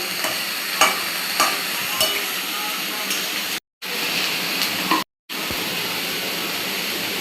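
Ginger garlic paste frying in a pan and being stirred: a loud, steady sizzle and hiss with periodic spatula scrapes, broken by two brief cut-outs of silence.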